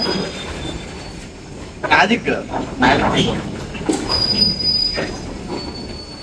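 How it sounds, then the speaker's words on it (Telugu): A train rumbles slowly into a railway station with high, shrill wheel squeals rising and fading, while a voice speaks briefly over the noise. "ట్రైన్ సౌండ్ కమింగ్ చూసారా"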